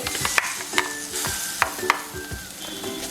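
Ground tomato paste fries in a pan for a bhindi masala curry, giving a soft steady sizzle under repeated metallic clinks and scrapes as a spoon stirs it, close up with no voices.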